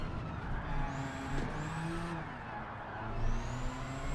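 Race car in Gran Turismo 7 powering out of a corner while drifting on all four wheels, engine revving with rising pitch sweeps amid steady tyre and road noise.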